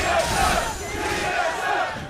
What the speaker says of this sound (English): Trying to figure out the chant the crowd is doing